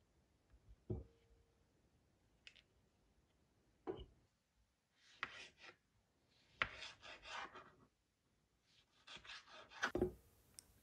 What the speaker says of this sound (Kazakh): осылай барлық помидорларымызды турап шығамыз